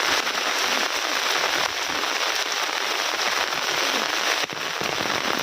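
Heavy rain pours down steadily in a village beside a pond, a loud, dense, unbroken hiss of drops on surfaces with no gaps.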